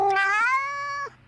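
A single cat lets out one drawn-out, rising then steady meow, clear and close, ending abruptly, with nothing else heard.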